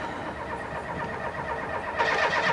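Car engine cranking repeatedly without catching, a steady rhythmic churning of the starter motor that grows slightly louder toward the end, heard without talk.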